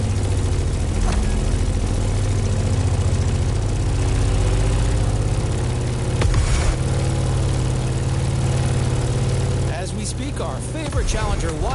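Grumman F8F Bearcat propeller fighter in The Crew Motorfest, its radial engine droning loudly and steadily throughout with a deep low rumble, a brief surge near the middle and a dip toward the end, while a voice talks over it.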